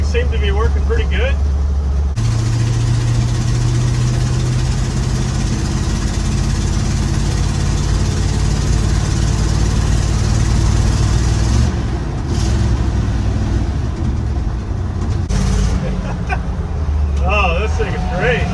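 A 1955 Chevy truck's small-block engine drives down the road, a steady low drone with a brief lift near the end, and people speak over it.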